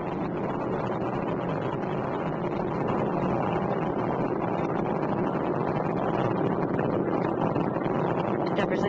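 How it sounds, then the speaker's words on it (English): Space Shuttle Endeavour's engines roar during launch from Kennedy Space Center as it climbs through maximum aerodynamic pressure. The sound is a steady, dense, distant rumble that fills the whole stretch without a break. "Endeavour's engines were throttling down as the orbiter passes through the area of maximum pressure on the vehicle"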